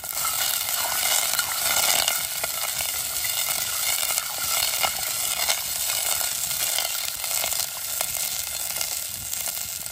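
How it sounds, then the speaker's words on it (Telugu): Water boiling and sizzling hard in a pan with onion tempering for jowar poha upma, a steady loud close hiss with crackling bubbles throughout and no talk. "ఎసరు అయితే బాగా మరిగిపోతుందండి."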